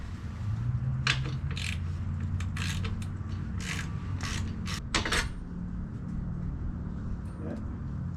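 A ratchet fitted with a 12 mm socket works loose an exhaust bolt on a 2019-2025 Yamaha R3 or R7 motorcycle, giving a run of short metallic clicks and scrapes in irregular bursts over a steady low background hum.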